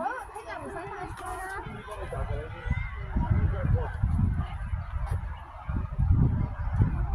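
Geese or ducks honking at a farm, repeated low nasal honks blending into a steady outdoor din, with people chatting nearby throughout.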